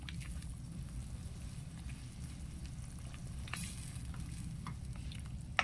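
Squid being stirred in a pan with soy sauce, vinegar and chili, a constant close sizzle with faint scraping and stirring noises, no talking.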